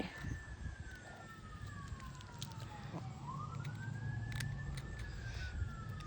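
Wailing emergency sirens sweep up and down at a distance, rising and falling continuously over a steady low rumble of background noise.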